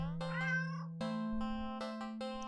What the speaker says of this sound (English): Then again, it is a cat.